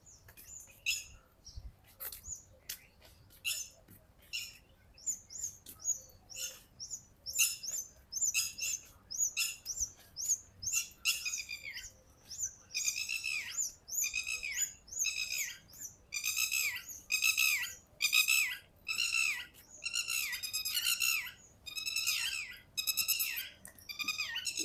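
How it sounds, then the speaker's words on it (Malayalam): Many birds call in a desert park in Abu Dhabi, a dense run of chirps, squawks and rapid twittering phrases that grows busier and louder toward the end, with no voices. "കുറേ പക്ഷികളൊക്കെ ഉണ്ട്, ദേശാടന പക്ഷികളൊക്കെ തോന്നുന്നു."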